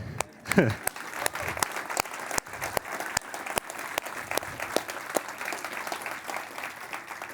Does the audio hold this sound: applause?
yes